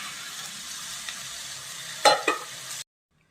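A pan of sautéing masala hisses steadily as mashed potato goes in, with two brief scraping stirs near the end before the sound cuts off abruptly; nobody speaks.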